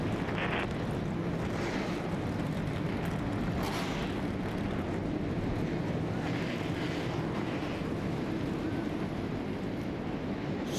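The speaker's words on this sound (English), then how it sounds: "So the engines are fired on the 43 cars" A field of 43 NASCAR stock cars fires its engines at Dover for a 2010 Nationwide Series race, a dense, steady, loud roar that fills the whole stretch without letup and with no speech.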